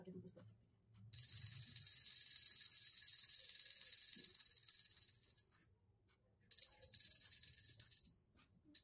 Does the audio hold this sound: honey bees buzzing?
no